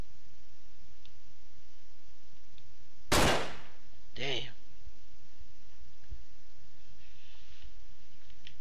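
A single sharp gunshot blasts from the Hotline Miami 2 video game, loud and abrupt, followed about a second later by a fainter second report over a quiet game background.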